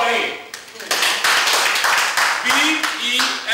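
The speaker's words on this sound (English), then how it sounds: "Clap for him." Several people clap, with sharp, irregular hand claps mixed among voices talking and singing in a Nigerian Igbo film scene.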